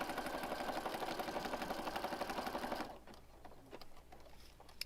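Stitching around a junk journal page, a sewing machine runs in a steady, close, rhythmic whir for about three seconds, then stops, leaving quiet handling clicks and taps.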